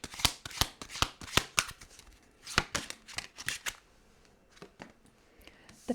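Tarot cards shuffled and dealt by hand, a quick series of crisp riffling snaps and slaps up close, then a few softer card flicks as cards are drawn, with no talking.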